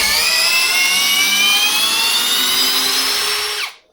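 A small LEADER impact screwdriver rated at 45 Nm drives screws with a loud, continuous high-pitched whine whose pitch slowly sweeps, then cuts off abruptly at the end.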